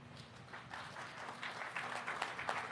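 Faint, distant applause from an outdoor crowd at the inauguration of the Samar Pacific Coastal Road, a soft steady patter of clapping.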